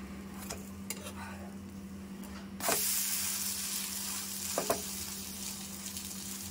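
Rava uttapam sizzles in a hot pan just after being flipped, a soft steady fry that jumps to a louder, hissing sizzle midway, with a few brief clicks of a spatula against the pan.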